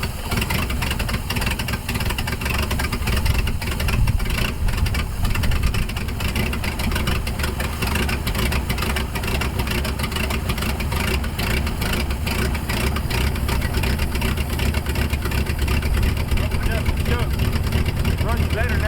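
A 1957 Dodge engine running steadily after years of sitting, a loud continuous low rumble with an even idle throughout, with a voice talking over it.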